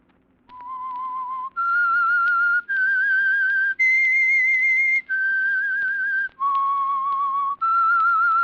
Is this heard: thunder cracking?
no